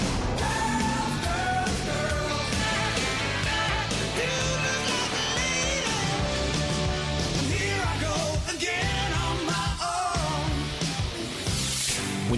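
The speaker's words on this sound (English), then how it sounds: "Classic rock that really rocks sounds like this." Loud, dense classic rock plays continuously from a radio station ad, with driving guitars, drums and shouted vocals filling the whole stretch.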